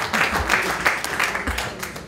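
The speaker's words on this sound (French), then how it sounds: "on peut vous applaudir" Audience at a public meeting on culture in Montreuil clapping, a short burst of moderately loud applause with distinct individual claps audible.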